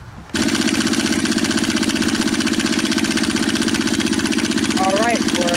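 A 1950s engine starts and runs steadily while burning fuel, a loud, even, throbbing drone with a rapid regular pulse that holds unchanged for several seconds after an abrupt onset.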